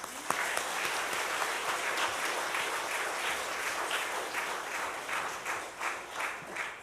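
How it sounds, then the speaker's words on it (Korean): Many hands in a Methodist church congregation clap for the choir at an Easter Sunday service, a sustained, even patter of applause that thins slightly and turns more uneven toward the end. "수고한 미가엘 찬양대에도 한 번 더 박수하겠습니다."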